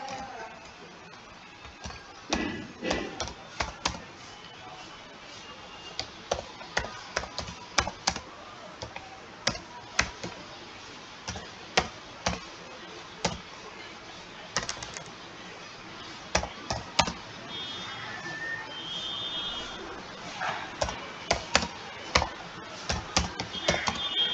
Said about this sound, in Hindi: यहाँ पे नरेशन टाइप कर लें